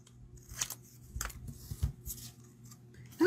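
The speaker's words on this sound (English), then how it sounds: "So I'm going to cut some of it off." Scissors snipping paper for a handmade Stampin' Up! card, a few close, crisp cuts spaced irregularly over a quiet background with no talking.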